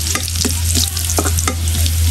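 Food frying in a pan being stirred and turned, a loud steady sizzle broken by scraping spatula strokes at an even pace, close up and without any talk.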